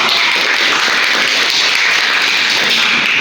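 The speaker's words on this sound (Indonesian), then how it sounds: "Coba kasih tepuk tangannya" Classroom applause during a micro-teaching lesson: dense, steady clapping from a group, loud and continuous from start to end, with no talking over it.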